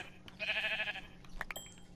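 A Minecraft sheep gives one clear, wavering bleat, close and moderately loud, followed by a few faint clicks from the game in the background.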